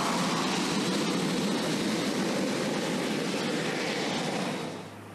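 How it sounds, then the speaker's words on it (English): Modified AT-6 aircraft land on an improved dirt runway at Melrose Air Force Base, New Mexico, giving a steady, loud, broadband engine roar and rushing wind noise that fades slightly at the end, with no voices. "Here you can see several modified AT-6 landing on an improved dirt runway"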